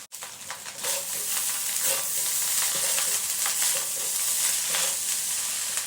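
Rice stir-fried in a pan with sambal belacan and anchovies for nasi goreng, a steady close sizzle with repeated scraping strokes of the spatula running the whole time, no talking.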